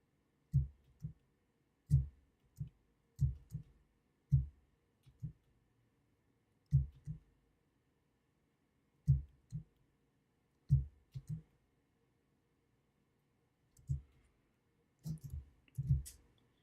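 Mouse clicks during photo editing with a cloning tool, heard as short, quiet taps arriving singly and in quick pairs or triplets with brief pauses between bursts, close to the microphone in an otherwise silent room.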